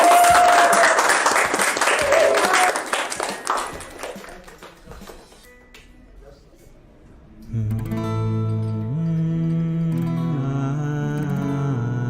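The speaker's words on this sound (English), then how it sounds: "Let's give him a round of applause." Audience applauding for a student singer at a senior high school talk event, dense clapping that fades out over several seconds before a sustained keyboard accompaniment begins.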